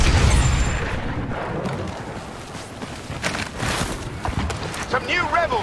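A grenade blast on the Scarif battlefield in Star Wars Battlefront 2, a deep rumbling boom with scattered booms and movement around it, under shouted voices.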